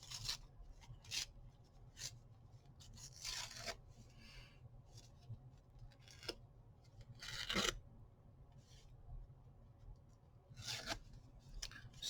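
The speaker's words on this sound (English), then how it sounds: "Just trimming off or tearing off the white part on that." Scissors snip and paper tears in short, separate bursts as white edges are trimmed off craft paper for a file folder project, close and quiet over a low hum, with no talking.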